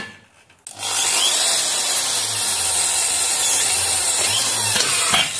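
A Maktec electric drill bores into material, starting after a brief quiet moment and then running as a loud, continuous grinding whine with slight wavering for the rest of the clip; no talk.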